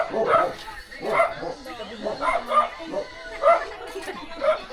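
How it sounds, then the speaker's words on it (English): Excited dogs bark and yip in repeated short bursts close by, a lively, uneven chorus that goes on throughout, at a house construction site in the Philippines. "The dogs are all excited now."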